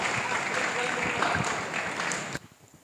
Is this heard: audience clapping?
yes